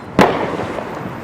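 A single loud firework boom bursts near the start, its broad blast decaying into a faint rumbling tail, heard around a home during a Fourth of July fireworks display.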